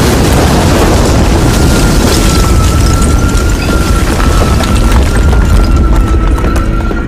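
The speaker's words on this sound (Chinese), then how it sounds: "剧烈的爆炸引起了阿克曼几人的注意" A large explosion in a 2023 Vietnam War film, set off near a big fuel tank during a fight with North Vietnamese soldiers, is a loud, sustained roaring rumble that fills about seven seconds with no speech.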